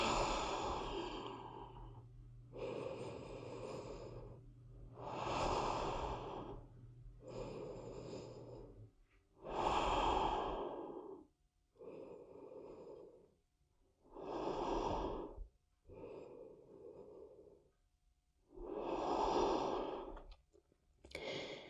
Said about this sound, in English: Feel your body breathing.